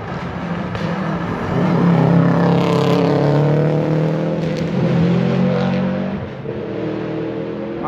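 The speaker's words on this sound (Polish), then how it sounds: "A tymczasem Pryczek w swoim Subaru Imprezie 555, ale ten dźwięk silnika jakiś taki niepokojący." A Subaru Impreza 555 rally car on a special stage of the 2019 Rally Świdnica, its engine droning loudly with a rough, uneven note that swells and dips as it passes, with no talk over it.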